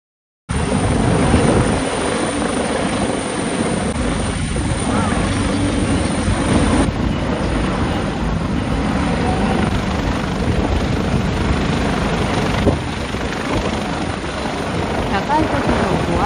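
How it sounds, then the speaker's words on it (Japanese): A helicopter passes overhead at a disaster-preparedness festival in Hakodate, a loud, steady rotor and engine roar that fills the whole stretch without a break. "またヘリが来た。"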